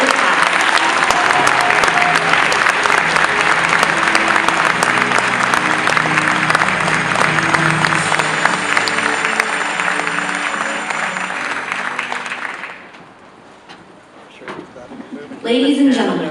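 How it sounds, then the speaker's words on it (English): An audience at an army basic training graduation claps loudly and densely for about twelve seconds, the applause fading out into quieter voices at the end. "let's give these soldiers a round of applause for such a great job representing our soldiers of the past"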